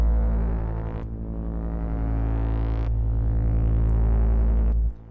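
Logic ES2 synthesizer tone modulated by LFO 2, a loud, buzzy bass-heavy sustained note whose brightness sweeps up in repeating ramps before cutting off abruptly near the end, heard alone without talk.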